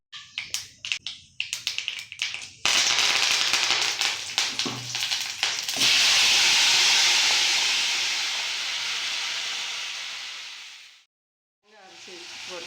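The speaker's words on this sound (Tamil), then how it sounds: "கொஞ்சம் எண்ணெய் ஊற்றி தாளிச்சிக்கலாம். கடுகு உளுந்து போட்டுக்கலாம்." Mustard seeds and urad dal dropped into hot oil for tempering, crackling and popping in quick bursts that give way to a loud, steady sizzling hiss, which fades and then returns briefly near the end.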